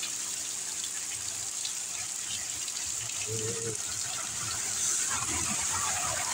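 Heavy rain pours down in Saudi Arabia, a constant dense roar of falling water with a slight swell near the end and a faint voice briefly underneath.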